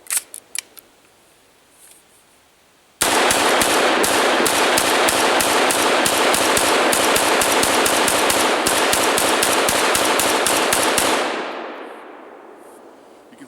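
A Rock River Arms A4 TRO AR-15 fires a downloaded magazine in one loud, rapid string of sharp cracks lasting about eight seconds, then the noise fades into quiet.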